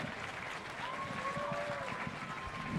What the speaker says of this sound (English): Give yourselves a clap